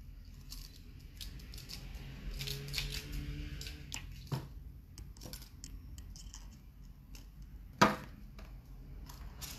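Jewelry wire is cut to a 70 cm length for weaving, with faint handling and sliding sounds followed by one sharp, close snip of the cutters near the end.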